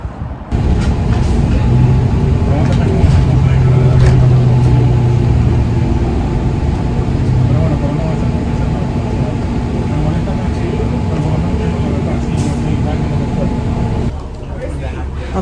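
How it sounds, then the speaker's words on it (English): A city shuttle bus bound for Broadway Junction drones steadily from inside the cabin, with a low engine rumble and air-conditioning hiss, and the sound drops off abruptly near the end. "And I am on a shuttle bus to Broadway Junction"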